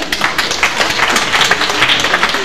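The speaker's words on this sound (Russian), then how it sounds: "Аплодисменты!" Applause from an audience at a Silver Bast Shoe club event on stage in Bryansk, a dense steady patter of many hands clapping, loud and close, lasting a couple of seconds.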